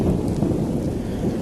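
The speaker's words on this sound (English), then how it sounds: "you see the lightning, you probably hear the thunder" A continuous low rumble of thunder with steady rain noise, loud and sustained throughout without any voices.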